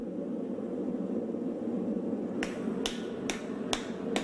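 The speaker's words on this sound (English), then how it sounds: "In a ballet of heating, hammering, and reheating, he adds the steel bit." A blacksmith forges a steel bit onto an axe head in the manner of a frontier smith, five sharp ringing hammer blows landing at a steady pace over a constant roar, likely the forge fire.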